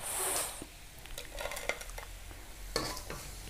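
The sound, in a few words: crispy fried sliced jengkol crackling on a plate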